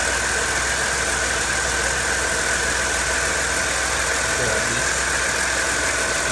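A Holden Commodore engine runs steadily during servicing, a loud continuous idling drone with an even hum that holds without change throughout.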